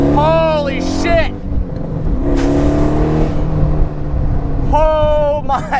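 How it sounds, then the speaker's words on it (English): A 700 hp LS-swapped Pontiac Solstice accelerates hard with its engine roaring up through rising revs in sweeping bursts, loud and close, while a person exclaims over the noise. "Just kidding, this one has 700 freaking horsepower and a huge ass bottle of nitrous."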